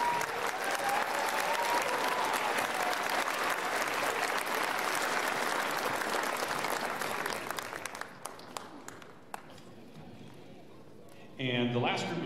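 Audience applause at a school winter band concert, dense sustained clapping that thins out into scattered claps and then fades, followed by a voice speaking at the end.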